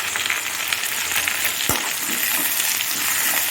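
Tomatoes and onions sauté in a pan while a masala for an eel fish curry is being made, giving a steady, close hissing sizzle with one brief metallic clink partway through.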